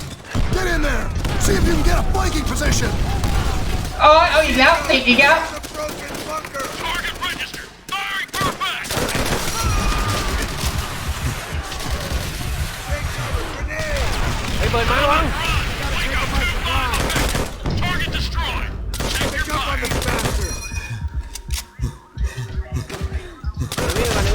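Call of Duty: World at War co-op match in which grenades and explosions burst amid dense gunfire and machine-gun bursts, loud and chaotic, with players talking excitedly over the action.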